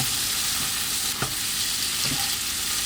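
Ginger and garlic sizzle steadily in a hot pan for a stir-fried green bean dish, a dense continuous frying hiss with a couple of soft stirring knocks, close and alone without talk.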